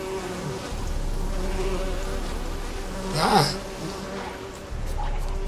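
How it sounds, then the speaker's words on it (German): Bee swarm buzzing in The Witcher 3 video game, a steady insect drone under game ambience with a brief louder swell midway; a short spoken word occurs. "Ein Bienenschwarm."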